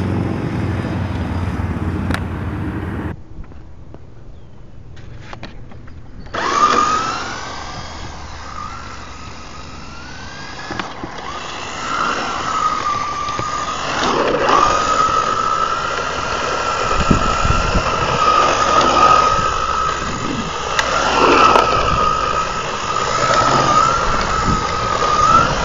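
A Traxxas 4-TEC 2.0 Ford GT RC car at stock setup runs at full throttle, its electric motor whining in a sustained high-pitched tone that rises and falls as it passes, loud and steady for most of the clip.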